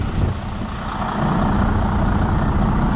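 A new Volvo truck, running bobtail, idles steadily with a low, even diesel rumble and a faint higher hum above it. The engine sits close and moderately loud and grows slightly fuller partway through, with no speech.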